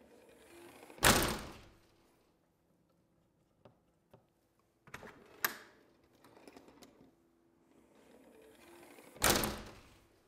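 An Andersen 300 Series storm door on a door closer shuts twice with loud, sharp thuds several seconds apart, with small clicks and knocks of the hardware in between and no talk.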